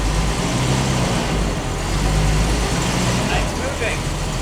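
A forgotten V12 car, sitting unused for 20 years, creeps forward with a steady low engine rumble throughout while people talk over it.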